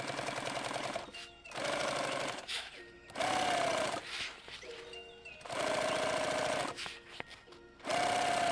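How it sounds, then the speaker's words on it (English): A Japanese sewing machine stitches a helmet bag in several bursts of fast, rattling mechanical chatter, separated by short pauses with a whining tone at the start of each run. "Here I am bragging on this Japanese sewing machine."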